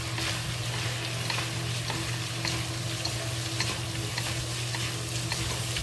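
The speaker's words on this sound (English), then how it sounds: "So we add the celery into it." Celery and shredded pork stir-fried in a hot pan, a steady dense sizzle running throughout with a low constant hum beneath and small scraping clicks of the utensil, close and continuous with no talking.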